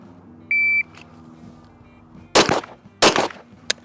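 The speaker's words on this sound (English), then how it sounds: "now we just have 2 shots standing" Two sharp, loud pistol shots crack close by about half a second apart during a police shooting qualification, each with a short echoing tail, preceded by a single electronic start-timer beep and followed by a faint trailing click.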